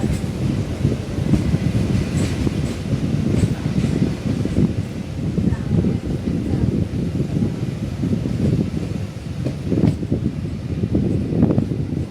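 A train runs fast with a rushing, rattling rumble that pulses irregularly, heard from close by, with no talking, near Perundurai on the way to Coimbatore.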